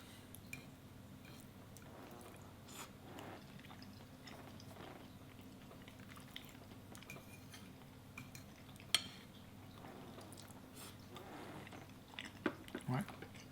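Someone eats lasagne with cutlery, with quiet close chewing and soft bites, occasional light clinks of utensil on plate, and a few sharper taps near the end.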